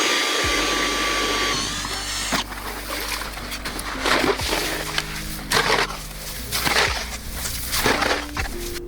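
A power drill whirs steadily up close, its motor strain rising and falling in repeated surges as it bores, with a constant mechanical hum underneath.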